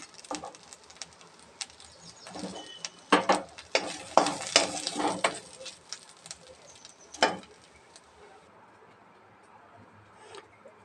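Ingredients fry in a pan until browned for a chamagadda (taro root) pulusu, with a steady low sizzle broken by clustered scraping stirs through the middle and one more sharp stir later before it quiets.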